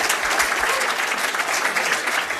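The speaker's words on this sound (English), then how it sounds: "Let's round of applause for our panelists." Steady, full applause from a seated audience at an opening-ceremony panel, even and continuous throughout with no talk over it.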